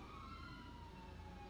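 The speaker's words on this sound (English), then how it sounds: "Why do I hear a shit ton of sirens?" Police sirens wail in a video game roleplay, several overlapping tones sustained and steady at moderate distance over a low engine rumble.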